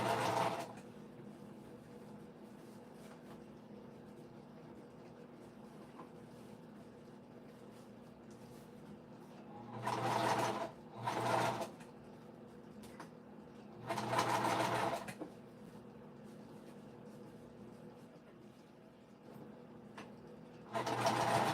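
An older sewing machine stitches slowly through thick layers of fabric for a winter crescent bag, in several short, deliberate bursts separated by quiet stretches.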